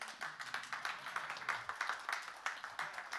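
An audience gives a small, faint round of applause: light, evenly spaced hand claps repeat steadily for a few seconds.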